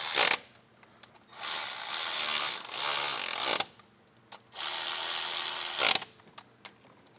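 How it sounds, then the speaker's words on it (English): Small hand ratchet cranking down engine parts while upgrading injectors on a 2001 Dodge Cummins, with two long bursts of rapid clicking and a few short clicks between, close and alone. "Once again, we're gonna use our baby ratchet."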